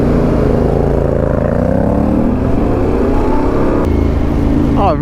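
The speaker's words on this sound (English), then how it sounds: "My bike sounds great, it never gets old." Yamaha Tenere motorcycle engine droning steadily at cruising speed on a long open road, a loud continuous rumble with shifting harmonics and wind, no talk.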